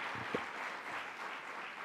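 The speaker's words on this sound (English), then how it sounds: "Let's give her a big round of applause" Audience applause at a New York state government announcement event, a steady wash of clapping from a room full of people, fairly even in level with a brief sharper clap near the start and no talk over it.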